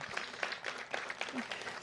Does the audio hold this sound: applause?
yes